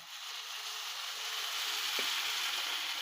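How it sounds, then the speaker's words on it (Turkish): Hot water is poured into bulgur frying in a pan for Sivrihisar-style meyhane pilaf. A steady, fairly faint hiss and sizzle holds evenly throughout, with one small tap partway through. "Şimdi sıcak suyumu ilave edeceğim."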